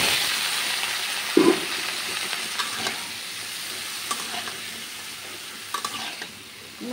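Vegetables stir-fried with browned onions for a fish-head curry sizzle steadily in a hot pan, with a sharp clatter near the start and scattered scraping stirs throughout, close and fairly loud, no talking.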